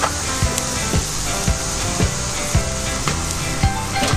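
An eye round beef roast sears loudly over hot barbecue coals, with a steady, dense sizzle and crackle and regular soft knocks about every half second.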